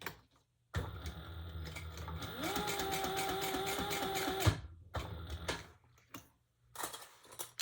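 A sewing machine set to a long stitch length runs through an unlined all-leather tote, a steady mechanical whir and rapid needle thumping for several seconds, then a few separate clunks and handling noises once it stops.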